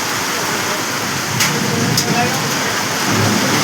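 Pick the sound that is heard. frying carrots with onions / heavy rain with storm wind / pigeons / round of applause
heavy rain with storm wind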